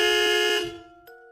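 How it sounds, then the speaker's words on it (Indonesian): A single car horn honk, short and fairly loud, sounding alone and then cutting off, followed by a faint brief tone. "Aku memencet klakson mobil"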